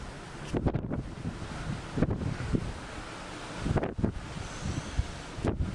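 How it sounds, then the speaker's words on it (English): Low, steady rush of ocean waves and surf in Ketchikan, Alaska, under gusty wind buffeting the microphone, with several heavier swells breaking at intervals. "I'm gonna shut up now so you can hear the waves."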